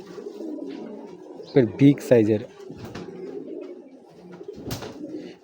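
Racing pigeons coo nearby in short bursts of rolling throaty calls while someone talks over them.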